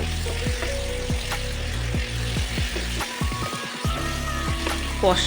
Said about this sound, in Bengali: চিকেনটাকেও ভালো করে এই মশলার সাথে কষিয়ে নেব